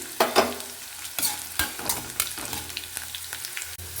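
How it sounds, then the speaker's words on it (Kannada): Curry leaves hit hot oil for a hill gooseberry chitranna, and a close, continuous sizzle and crackle follows, broken by repeated scraping strokes of a spoon stirring in the pan. "ಇವಾಗ ಸ್ವಲ್ಪ ಕರ್ಬೇವಿನ ಸೊಪ್ಪನ್ನು ಹಾಕೋಣ ಅದಕ್ಕೆ"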